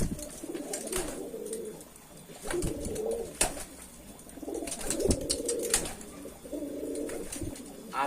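Racing pigeons coo close by as a male chases a female, repeated low throaty coos in bursts, mixed with sharp clicks and faint wing flaps.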